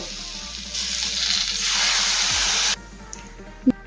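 Water is poured into a hot pan of turmeric-spiced vegetables for a Bengali niramish jhol, setting off a loud, broad hissing sizzle that swells for about two seconds. It then cuts off abruptly, followed by a faint clink and a short knock.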